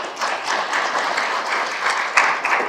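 Audience clapping at a township planning commission meeting, a short burst of moderate applause from a room of residents, fairly steady with a few sharper claps near the end.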